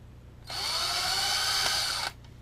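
A power drill bores 1/8 inch holes into a sponge filter base in one steady, loud, high whine lasting about a second and a half, with quiet room tone before and after.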